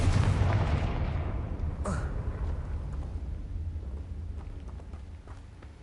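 The Confringo blasting spell in Hogwarts Legacy sets off a loud booming explosion that decays into a long rumbling tail, with a voice over the start.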